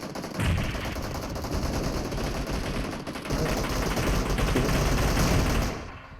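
Dense, sustained automatic gunfire from the PUBG Mobile video game, played on a Xiaomi Mi 10T Pro, rattles continuously for about six seconds with two loud bursts before cutting off.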